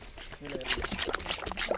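Liquid poured into a pan while cooking bread caramel pudding cake outdoors in a village, a soft steady trickle under close talking voices.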